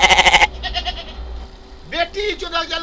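A voice imitates a goat's bleating, giving a burst of rapid wavering bleats at the start, then a few softer quavering calls and a final drawn-out mimicked bleat, close and solo.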